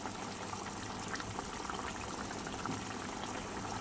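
Fish curry sauce (bhola fish jhal) bubbling at a steady boil in a covered pan, a continuous dense simmering hiss with soft popping, close and fairly quiet, with no voices.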